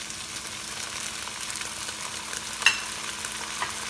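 Tomatoes and onions sautéing with ginger and garlic for dal makhani, a steady soft sizzle with faint stirring scrapes and one small clink, no voices.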